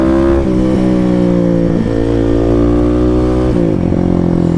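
A Kawasaki KLX300 motorcycle engine roars loud and close through clutchless downshifts, its steady drone punctuated by quick pitch dips and blips as the gears drop.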